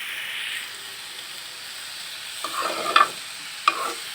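Two fresh bay leaves and dal fry in oil for bhuna khichuri, starting as a soft steady hiss, then a few louder stirring scrapes and spatters toward the end.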